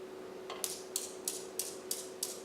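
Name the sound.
colliding objects hitting each other in a momentum demonstration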